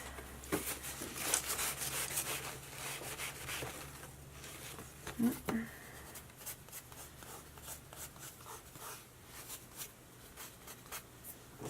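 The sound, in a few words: rubbing chalky residue off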